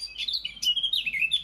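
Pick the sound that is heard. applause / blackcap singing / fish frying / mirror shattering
blackcap singing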